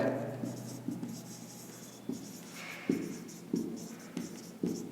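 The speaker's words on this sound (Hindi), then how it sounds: "ये लिखता हूँ मैं, एरिया ऑफ ब्लैक" A pen or marker writes on a surface during a maths lesson, giving soft scratchy strokes and light taps in an irregular rhythm, close and fairly quiet, with no talking over it.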